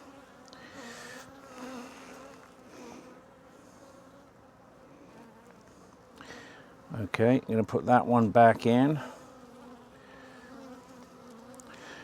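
Honeybees buzz around an open hive while a beekeeper splits colonies, a loud close swarm of buzzing swelling for a couple of seconds in the middle, with speech before and after.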